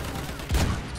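Gunfire in the video game Battlefield 1, a brief burst of shots with one heavier thump in the middle, heard over muffled battle ambience.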